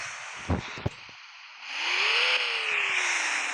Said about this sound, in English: Here's what the engine sounds like from the inside.